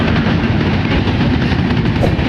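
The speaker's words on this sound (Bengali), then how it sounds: "ঢাকা থেকে বের হয়ে যাচ্ছে জাহানাবাদ এক্সপ্রেস ট্রেন" The Jahanabad Express passenger train rumbles loudly and steadily out of a Dhaka railway station, a close, continuous roar of rolling wagons with no voices.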